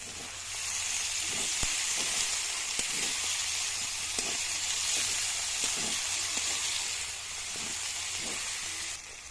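Chopped banana flower with masala and green chillies fries steadily in a pan, a dense continuous sizzle with faint scattered pops and utensil taps running throughout.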